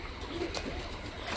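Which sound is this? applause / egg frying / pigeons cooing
pigeons cooing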